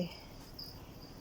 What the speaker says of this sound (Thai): เต็มไปด้วยจิ้งหรีดหนาแน่นไปด้วยจิ้งหรีดเลยค่ะ